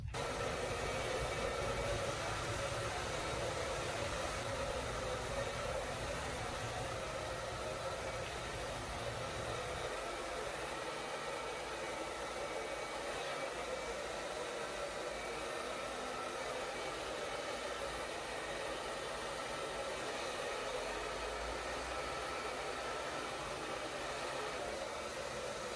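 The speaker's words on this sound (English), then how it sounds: "keep that blow dryer angle going down the hair shaft" A blow dryer drying curly hair runs continuously at close range, giving a loud, steady airy hiss and motor whir that shifts slightly partway through as the angle changes, with no talking.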